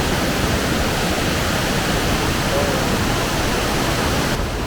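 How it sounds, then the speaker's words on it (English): Fast-running meltwater river rushing beneath a bridge on the Tour du Mont Blanc trail near Bellevue, a loud, steady, dense roar of water that continues unbroken throughout. "We are right now at the infamous bridge, and the water runs very fast."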